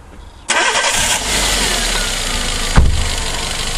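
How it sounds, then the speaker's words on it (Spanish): A car engine cranks and catches after ignition is switched on, settling into a steady loud idle, with a brief sharp revving bump near the end. "ponemos el motor en marcha."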